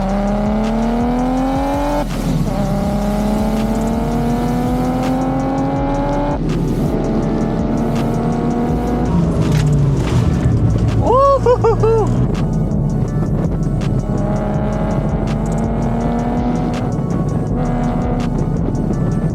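A tuned BMW 335i E92 thrown hard through corners, its engine note rising and falling in long steady sweeps and holding near, with brief squeal-like tones partway through.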